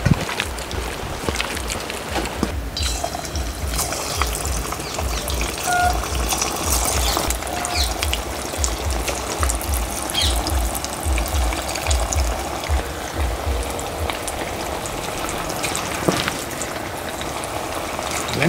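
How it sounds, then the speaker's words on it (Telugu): Chicken fries in hot oil with a loud, continuous, dense sizzle and crackle that holds steady throughout, close and without talking. "నూనె వేడెక్కగానే చికెన్ వేసేసుకుందాం."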